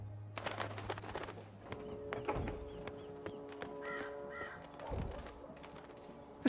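A crow from the video game Dreamfall Chapters lets out several sharp, harsh caws as it flies off, set over quiet game ambience with faint clatter.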